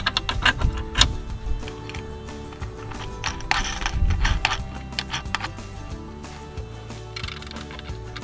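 Two 3/8 hex bolts per leg are tightened on the steel brackets of a water tower's four legs, giving metallic clinks, ratcheting clicks and scraping taps in uneven bursts, close and fairly loud.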